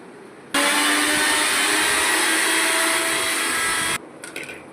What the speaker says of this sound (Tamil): இதை வந்து நம்ம வந்து மிக்ஸியில் ஒரு அடி அடிச்சுக்கலாம்.